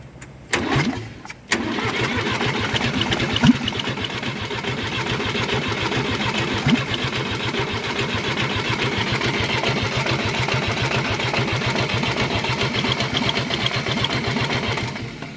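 An old seized tractor engine is cranked over: after a short pause, a loud, steady rhythmic chugging and churning sets in close by and keeps going without a break to the end.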